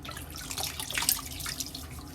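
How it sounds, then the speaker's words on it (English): Water runs from a tap and splashes as it is scooped onto a face, a soft, close, continuous wash with small irregular splashes and no talking. "A little water on my face."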